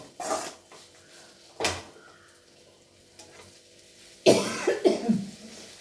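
Three separate coughs spaced a second or more apart, the last one louder and rougher with a harsh burst after it, in an otherwise quiet room where spices are being roasted for a curry.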